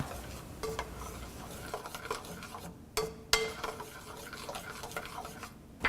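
A spoon mixes prawn puff batter with melted butter in a bowl, giving close, soft wet stirring and rubbing with several sharper scrapes and clinks against the bowl, alone and quiet.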